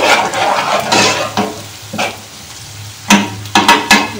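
Cumin seeds and onion fry in a pan for a desi-style mixed vegetable dish, a close sizzle broken by several sharp scrapes and clanks of a spoon stirring against the pan.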